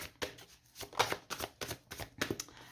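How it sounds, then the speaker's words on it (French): Light Seers tarot cards are shuffled by hand, giving about nine quick, rhythmic riffling bursts that are close and fairly quiet, with no talking. "On y va avec de Light Seers Tarot. On va poser les 9 cartes"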